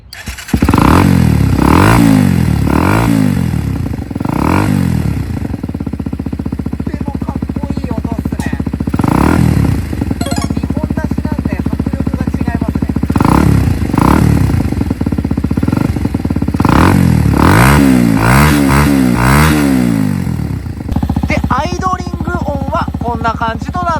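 Honda CBX125F motorcycle with dual exhaust being revved up close, loud repeated throttle blips rising and falling in pitch with idle between, the stock mufflers sounding deep and punchy.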